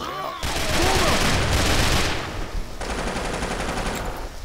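Sustained video game gunfire, a rapid automatic burst that rattles on loudly for about two seconds, pauses briefly, then resumes in a second long volley, with a voice briefly speaking over it.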